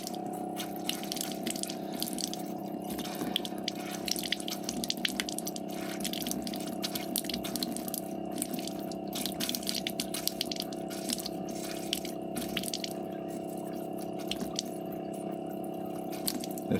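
Coolant draining steadily from the drain tap of a Fiat Ducato during a water pump replacement outdoors in a field, a continuous trickling, splashing flow with dense drip texture, fairly close and unbroken throughout.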